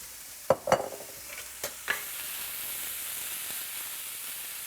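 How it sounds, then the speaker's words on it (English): Soy curls and onions frying in a pan make a steady background sizzle, with a few sharp stirring clatters and scrapes near the start that settle into continuous, moderately quiet frying. "I'm gonna add the soy curls right in there so we can cook them at the same time"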